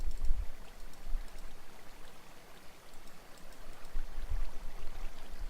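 Water pours steadily from a placed bucket in Minecraft, a continuous soft trickling, rushing flow with occasional low thumps, heard close and alone.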